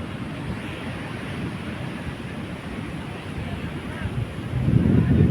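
Sea waves wash onto the shore at Somnath on the Gujarat coast, a steady rushing surf mixed with wind noise that swells louder near the end.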